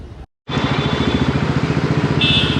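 A motorcycle engine starts up after a brief silence and runs steadily with a pulsing, throbbing rhythm, close and loud, with a faint horn-like tone near the end.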